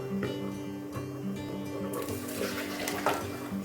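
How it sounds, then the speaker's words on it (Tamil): Hot rasam poured into a vessel, a close, steady liquid pour with splashing and bubbling and a faint tonal hum under it, growing brighter and splashier toward the end. "ரசத்தை தூக்கி இதில் ஊற்றி மூடி வச்சிட வேண்டியதான்"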